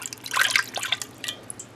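Water drips and trickles close by while mud is cleaned off a gun sight, a brief burst of splashy droplets that tapers into a few scattered drips, with no voices.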